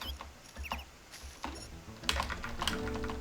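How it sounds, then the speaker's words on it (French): A computer keyboard clatters in quick, uneven bursts of close keystrokes, loud and crisp with short pauses between runs of typing and no talk. "On entend les gros bruits de mon clavier"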